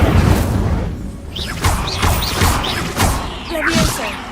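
Fire spell blasts cast repeatedly in Hogwarts Legacy: a series of loud whooshing bursts and booms, roughly one every half second, layered with swishing effects and game sounds.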